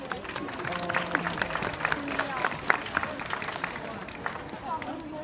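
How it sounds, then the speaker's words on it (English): Audience claps at the Vancouver Aquarium dolphin show: a moderate, scattered round of applause with sharp individual claps, mixed with crowd voices and talk for about five seconds. "let's give everyone a nice big welcoming round of applause"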